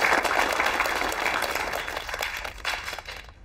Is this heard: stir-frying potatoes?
no